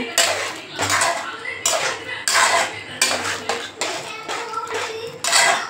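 A spoon scrapes and clanks against a metal pot, stirring chana masala curry in repeated strokes, steady and close.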